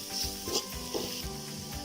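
Masala sizzles and crackles in hot oil while being sautéed for a prawn gravy, a steady soft frying hiss with light stirring scrapes, close and fairly quiet, with no talk.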